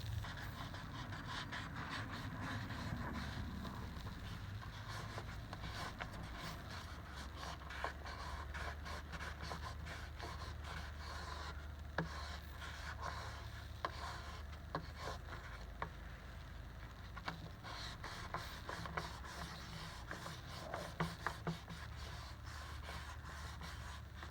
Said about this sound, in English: what we're going to do next is use 1000 grit sandpaper